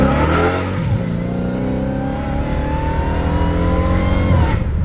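A supercharged Dodge Hellcat Redeye accelerates hard in second gear, heard up close from inside the car. The engine roars loudly with a steadily rising whine throughout the pull.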